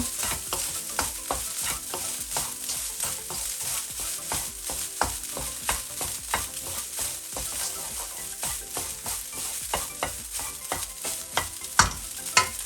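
Egg fried rice is stirred briskly in a wok with the heat off, giving a steady run of quick scraping strokes over a faint sizzle, close and alone.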